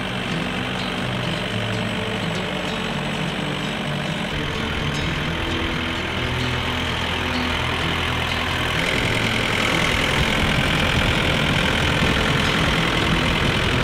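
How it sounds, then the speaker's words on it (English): A farm tractor idles steadily, its engine producing a continuous, even rumble for the whole stretch at moderate distance, with no talking over it. "now we've taken our tractor, backed it up, and put it right underneath our hitch"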